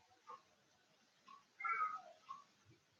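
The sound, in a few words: cat meowing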